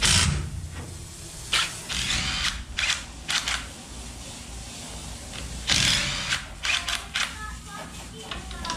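Ratchet clicks come in short bursts while axle bolts are tightened on a Super Late Model race car in a shop, irregular metallic rattles and clicks at moderate distance over a low background hum.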